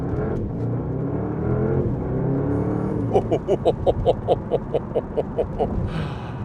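A 782hp Porsche Panamera Turbo S pulls away from traffic lights, its engine rumbling low before rising through a series of rapid, pulsing revs, heard close from inside the car.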